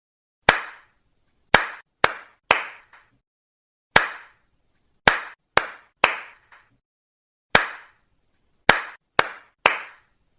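Sharp hand claps ring out alone in grouped bursts, one then three, repeated in a steady counting pattern across about ten seconds, each clap crisp and close with brief silences between groups.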